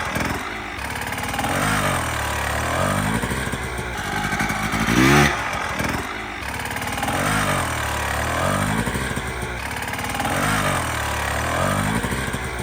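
A dirt bike engine drones steadily with rhythmic surges in pitch as it rides over uneven dirt ground, without using the clutch, loud and continuous.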